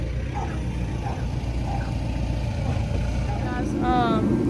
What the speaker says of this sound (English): I know it's loud in here. We got the heater going, it's cold.